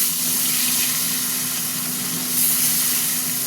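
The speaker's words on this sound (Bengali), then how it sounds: "এবার দুটো দুটো করে ভাজি, নাহলে ধরবে না" Pieces of fish frying in hot oil, two at a time, give a steady, dense sizzle with a low hum underneath, loud and continuous throughout with no voices.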